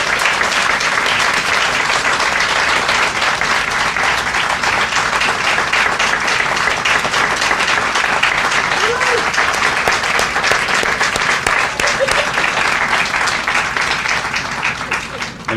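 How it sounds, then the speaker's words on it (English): A crowd gives a round of applause for Thomas Himmler at a civic gathering in Suitland, Maryland, steady dense clapping holding loud for about fifteen seconds before tapering slightly at the end. "Can we give Thomas Himmler a round of applause?"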